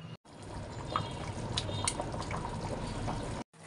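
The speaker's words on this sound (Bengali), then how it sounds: "এই পানিটার মধ্যেই আমি চিকেনটাকে একটু ভালো করে সিদ্ধ করে নেব" Chicken simmering in a pot of hot water, a steady close bubbling and watery churn that runs evenly throughout, with a brief cut of silence near the start and end.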